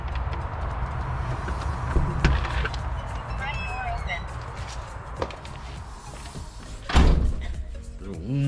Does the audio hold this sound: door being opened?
yes